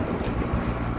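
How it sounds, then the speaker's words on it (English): Wind gusting across Lake Simcoe during a perch fishing outing, a steady low roar buffeting the microphone throughout with no voices. "She's the windy one today on Lady Simcoe."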